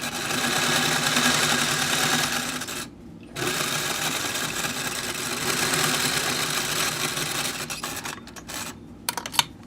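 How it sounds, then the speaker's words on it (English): A sewing machine stitches a finger gusset on a glove in loud rapid runs, pausing briefly partway through and stopping in short bursts and clicks near the end. "we're ready to come and sew down the home stretch."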